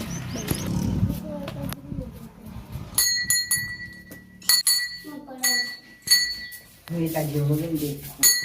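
Bright metallic temple bell strikes ring out several times amid a busy crowd at a Ganesh temple, with voices talking around them and clinking tones overlapping.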